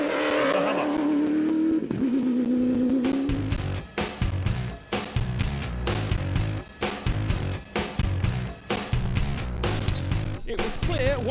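Nasser Al-Attiyah's Hummer rally car sets off on a Dakar 2012 stage, its engine roaring loud and close with rhythmic revving surges and gear changes under a bed of noise, after an opening stretch of voices.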